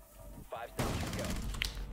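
Gunfire from a first-person shooter video game, with a short burst of shots cracking out after a brief quiet start and a sharp peak near the end, with a voice faintly heard around it.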